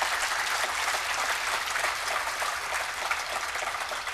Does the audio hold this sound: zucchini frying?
no